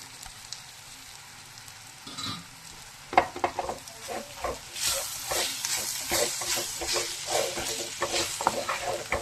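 Kappakka pickle, tapioca-berry pickle, being stirred and mixed with a spoon, giving a steady wet scraping and sizzling texture that starts quietly and grows busier and louder in the second half, with no voices.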